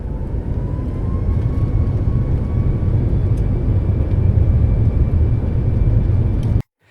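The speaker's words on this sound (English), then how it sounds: "this is the moment when the all gear engines start kicking out, and the sound is incredible loud in the plane" Airplane jet engines roaring during takeoff, heard from inside the cabin as a loud, deep continuous rumble with a faint rising whine that cuts off abruptly near the end.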